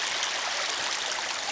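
Steady broadband rush of water through a garden stream and small waterfall in Cartmel, Cumbria, a continuous bright hiss and splash with no voices.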